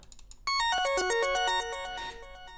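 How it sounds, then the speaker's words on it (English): A quick synthesizer arpeggio of bright tones stepping downward in rapid succession, clear and alone, lasting about two seconds. "And there's another arpeggio."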